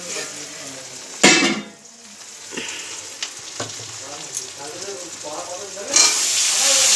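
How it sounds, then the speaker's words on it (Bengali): Onions frying in oil in a pan give a steady, close sizzle, broken by louder bursts of spitting near the start and again toward the end, with a few faint utensil clinks in between. "পেঁয়াজটা ভাজা হয়েছে।"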